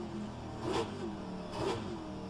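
Onboard a Pontiac race car lapping Road Atlanta, the engine drones steadily and fairly faintly, swelling twice in short rising pulls around an upshift to fourth gear.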